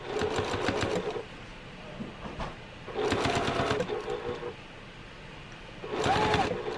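A sewing machine runs in three bursts of rapid stitching while binding a quilt, each lasting about a second or more and separated by short pauses, close and moderately loud.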